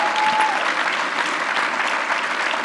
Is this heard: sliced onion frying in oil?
no